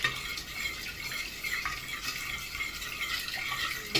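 Ambasha bread dough is mixed by hand with flour, sugar, salt, oil and water, making a close, continuous wet squelching and rustling with a few faint knocks and no voices.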